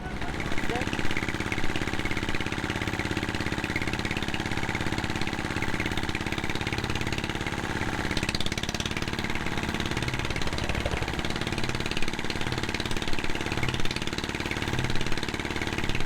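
A river trawler's engine idles during a boat trip through the Bil Dumuria waterways, a steady, continuous mid-pitched drone with a rough knocking edge that runs throughout, while people talk over it.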